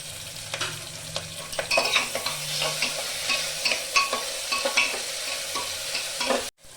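Onion, garlic and ginger fry in a pan with a bright sizzle while a spoon stirs in quick irregular scrapes and knocks, close up with a faint low hum beneath and no speech.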